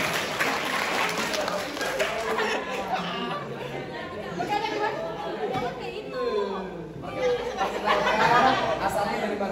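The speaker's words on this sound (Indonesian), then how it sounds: "Tepuk tangan dulu." Audience at a youth exchange event in a high school hall clapping and chattering, a dense, continuous wash of applause and crowd voices lasting several seconds.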